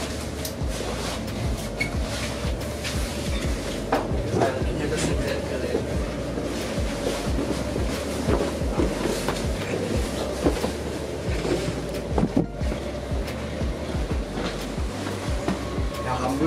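Trains rolling through a German railway station platform on the left Rhine line, a steady loud rumble and rush of wheels and wind that fills the whole stretch, with brief sharper clanks along the way.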